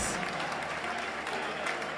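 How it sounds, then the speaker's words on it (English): Steady, dense applause from a football crowd during a penalty shootout at a Plymouth Argyle versus Oxford United pre-match event, sustained and fairly loud throughout. "Huge round of applause for everybody that's managing to score against Pilgrim Pete"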